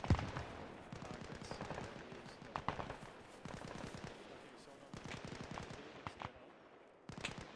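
Rapid rifle and machine-gun fire rattles in repeated bursts during a mountain assault in the military shooter Arma: Reforger, with sharp, closely spaced cracks and brief pauses between volleys.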